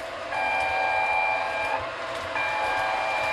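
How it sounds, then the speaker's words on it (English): Horn on a model train engine running on a home layout, giving a steady, ringing electronic tone like an alarm clock in two sustained bursts over the hum and rumble of the moving train. "This thing has the weirdest horn I've ever heard. It sounds like an alarm clock."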